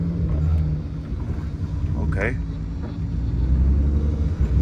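VW Mk1 with a VR6 engine swap on its first drive around a lot, a close, steady low engine rumble that swells slightly toward the end, with a brief spoken word.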